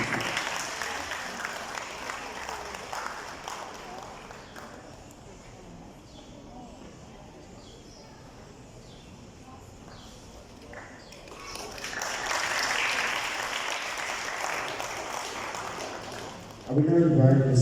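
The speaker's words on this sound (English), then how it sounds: "Sous les applaudissements." Applause from the audience at a school prize-giving ceremony for a green ranger programme rises and swells for several seconds, distant and diffuse in a large room, with a voice over a PA before it.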